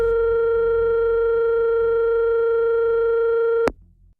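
A steady harmonic telephone tone plays when dialing a suspended number, holding loud and unbroken for several seconds before cutting off abruptly into near silence.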